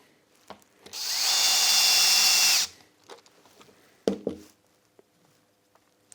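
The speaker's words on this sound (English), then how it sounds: "I'm just going to load a couple of screws in for now, so that they just peep through" A power drill drives screws into the back end of a wooden tumble track toy, one steady whirring burst of about a second and a half, followed by a few wooden knocks and clicks in a quiet room.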